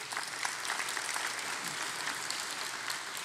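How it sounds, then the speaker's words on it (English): An audience claps for a woman who has just asked a question at a live business talk, with fairly faint, steady clapping heard from a distance. "Let's clap for the Queen right quick."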